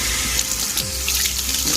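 Kitchen tap water running steadily into a sink to dampen a flour sack towel, a continuous close splashing hiss with slight fluctuations as the cloth is moved under the stream.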